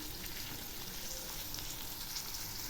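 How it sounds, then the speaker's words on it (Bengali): Cashews and raisins fry with vegetables in a pan for sabudana khichdi, giving a soft, continuous crackling sizzle that stays even throughout with no voices. "এখন আমি এর মধ্যে দিচ্ছি কয়েকটা কাজু আর কিশমিশ।"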